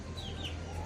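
A couple of young chicken chicks give faint, thin peeps, two brief high calls within a second, soft and a little distant against quiet background hum.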